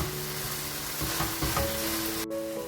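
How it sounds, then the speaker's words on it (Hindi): Chicken and vegetables pan-roasting over high heat for spaghetti: a steady close sizzle with a few stirring scrapes and a faint hum in the background, with no talking. "इसको थोड़ा सा तेज़ करेंगे हम इस पॉइंट पे और हल्का सा जिसे कहते हैं ना भून लेंगे"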